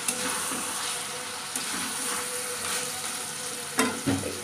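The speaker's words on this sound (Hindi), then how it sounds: "देखिए मेरा मसाला चिकन अच्छे से फ्राई हो गया है, चिकन भी गल गया है, मसाला भी फ्राई हो गया है।" Chicken cooked in masala fries in a pan, a continuous, close crackling sizzle with occasional louder stirring scrapes near the end and no talking.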